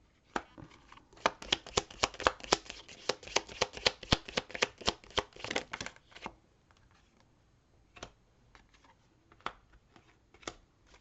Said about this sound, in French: je vais tirer toutes les cartes